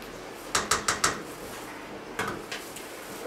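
A kitchen oven door handled while tortillas for a three-bean vegetable taco recipe are taken out, giving a quick run of four close clunks and clacks, then two or three softer knocks a moment later, with no talking.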